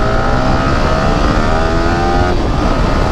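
A Yamaha R15M motorcycle engine screams at very high RPM while the bike struggles to gain speed. The loud, steady, close drone holds throughout with no voices.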